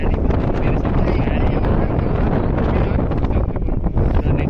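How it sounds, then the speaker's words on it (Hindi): Strong wind at a seashore near a lighthouse roars continuously and loudly against the microphone, a dense buffeting rush that runs the whole time without a break. "देख सकते हो कितना हवा चल रही है, तेज हवा के झोंके और समुद्र का किनारा"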